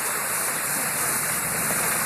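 Steady, continuous rush of a waterfall in a forest along a tram ride route, a dense hiss of falling water filling the whole span at constant loudness, with no voices.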